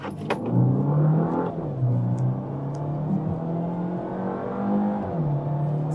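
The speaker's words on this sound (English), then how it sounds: "turbocharger is making a nice, very small whine. You can hear the turbocharger." A Peugeot 408 GT pulls through second and first gear while downshifting, a faint, high turbocharger whine riding over the steady engine drone, rising and falling as the revs change.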